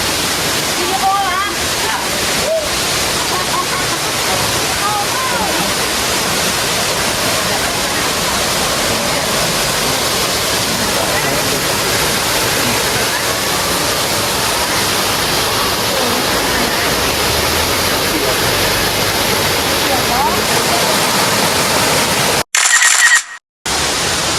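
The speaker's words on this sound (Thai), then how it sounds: "นี่นะคะทุกคนน้ำตกแม่กำปองค่ะ" Mae Kampong waterfall in Chiang Mai, Thailand, on a drizzly day, pouring as a loud, steady, close broadband roar that fills the whole stretch, with a brief cutout near the end.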